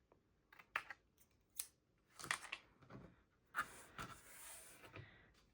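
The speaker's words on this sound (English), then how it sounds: "I'll take my scissors and I just kind of go from corner to corner and cut off the bulk" Scissors cutting from corner to corner through the bulk of paper for a handmade notepad holder, giving a series of quiet, close, irregular snips and rustles.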